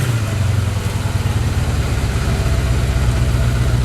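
A Kawasaki KZ550 motorcycle engine idles close by, a loud, steady low chugging rumble with an even pulse.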